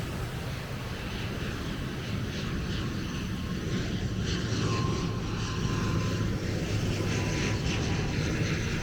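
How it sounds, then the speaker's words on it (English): An Air Swift aircraft coming in to land at El Nido Airport gives a steady engine drone at moderate distance, slowly swelling over ambient outdoor noise. "you can see behind me an aircraft just coming into land"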